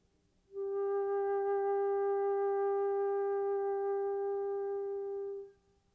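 A single sustained flute note held with a straight tone, steady and unwavering for about five seconds with no fluctuation, clear and close, with no talking.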